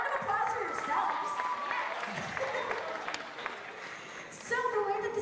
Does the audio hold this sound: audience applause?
yes